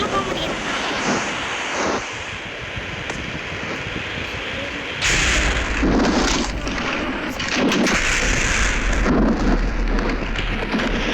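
Rain and thunder from the video game Minecraft, a steady hiss of rainfall with a deeper rumbling swell partway through that stays loud to the end, with no talking over it.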